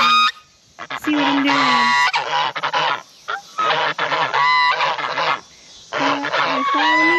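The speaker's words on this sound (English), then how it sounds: "And then we got our geese." Geese on a farm honking loudly and close in repeated bursts with brief pauses between, while someone speaks a few words over them.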